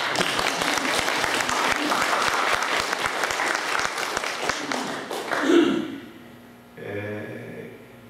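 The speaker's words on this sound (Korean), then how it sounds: "박수하고" Sustained applause from a congregation at a Korean Presbyterian church's 35th anniversary service, dense clapping filling the hall for about five seconds before tapering off, followed by a brief murmur.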